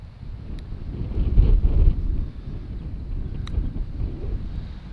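Strong gusts buffet a handheld camera's microphone on a seaside golf course at Barton on Sea. The result is a loud, continuous low roar that swells around the second mark, with a couple of faint ticks and no speech.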